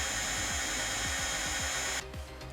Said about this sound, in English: Now to drill 2 tiny holes in it.